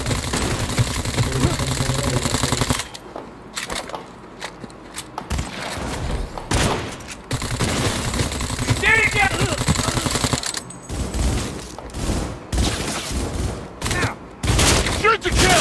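Gunfire in the Cyberpunk 2077 video game, bursts of shots and thuds rattling over a low engine rumble, mixed with shouted voices and game dialogue throughout.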